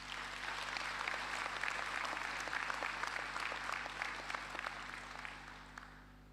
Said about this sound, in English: I really want to ask all of us to give them a round of applause